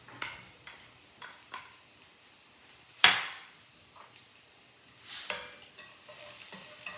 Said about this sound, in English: add the garlic. You can tell the oil is definitely ready because it's sizzling.